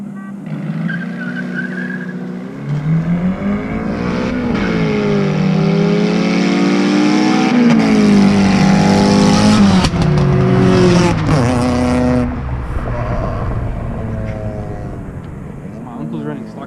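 A Datsun 240Z-era Da9 and a Nissan 200SX race at a local car meet, engines rising and falling loudly with rapid revving sweeps and tire noise for several seconds, with voices talking nearby.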